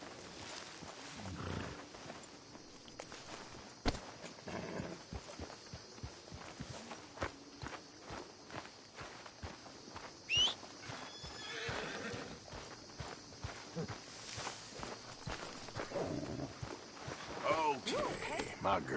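Horse in the video game Red Dead Redemption 2: hooves clip-clop steadily at close range and the animal whinnies, with game ambience and occasional speech around it.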